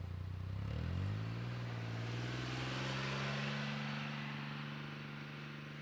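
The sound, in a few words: Polaris Ranger XD 1500 off-road vehicle driving in tow haul mode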